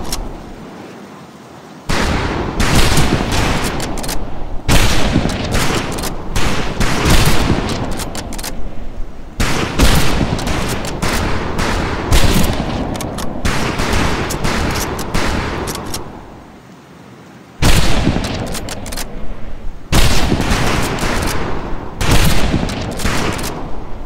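Rifle volleys crack out on a World War II training firing range in Medal of Honor: Pacific Assault, loud dense bursts of overlapping shots in three long waves separated by brief lulls.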